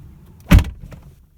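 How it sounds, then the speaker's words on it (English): A 2018 Ford Mustang GT door slams shut once, a close, solid, heavy thud with a short bright latch snap, followed by faint cabin stillness. "So I'll go ahead and shut the door."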